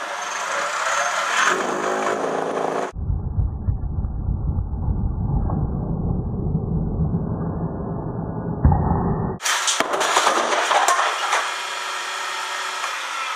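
A wood lathe turning a vase blank spins up toward 3,400 RPM as a loud low rumble, then the piece flies off and a sharp burst of broadband clatter and noise follows.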